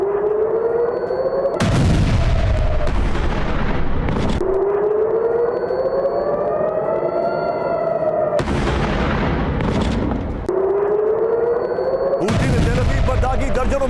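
Air-raid sirens over Tel Aviv during a missile attack, wailing in long rising and falling tones, broken by repeated loud broadband blasts of explosions.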